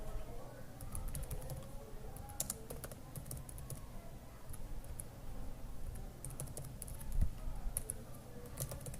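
A user name is typed on a computer keyboard, bursts of close, crisp key clicks in irregular runs with short pauses, over a faint low background hum.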